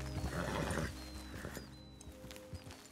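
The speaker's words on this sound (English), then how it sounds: "I'm like trying to decide where I want to hitch my horse" A horse in the Red Dead Redemption 2 video game whinnies in the first second, with hoof clip-clops and ambient outdoor game sounds continuing faintly afterward.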